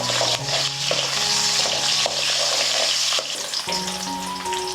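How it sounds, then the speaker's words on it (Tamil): Small onions sautéing in a pan for Tamil-style egg gravy give a loud, continuous sizzle with steady hiss, a brief shift near the end as stirring disturbs the pan; no talking. "இப்போ இந்த வெங்காயம் நல்லா வதங்கட்டும்"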